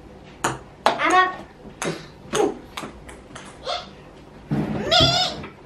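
A child bleats like a sheep in short bursts, imitating the animal between sharp pinging knocks, with brief talk mixed in.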